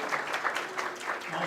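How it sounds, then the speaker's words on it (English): A crowd at an Eid Mab'ath gathering claps for a mother and son, steady mid-level applause throughout with faint voices mixed in. "a round of applause for the mother and son together, everyone."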